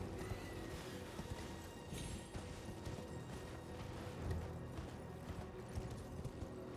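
A horse's hooves clip-clop steadily over ground in the video game Elden Ring, a fairly quiet, even gait against a busy game background.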